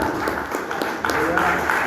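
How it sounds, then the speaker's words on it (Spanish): A church congregation applauds in scattered, irregular claps that blend into a noisy room wash, with speech heard over it. "Denle aplausos al Señor, hermanos."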